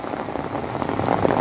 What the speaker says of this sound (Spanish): se acelera la lluvia y el río Cañalejo va creciendo más y más